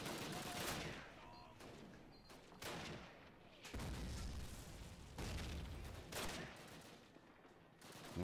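Gunfire in Call of Duty, with bursts of shots and booming blasts coming in uneven waves over a steady din of battle, and a voice faintly under it.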